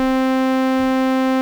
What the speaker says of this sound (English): I'm going to use a sawtooth because I just prefer sawtooths because sawtooths are cooler.